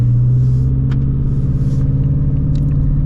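A 2016 Shelby GT350 V8 engine heard from inside the cabin while driving, a loud, steady low rumble with a droning tone and a slightly throbbing exhaust note, holding an even pace throughout.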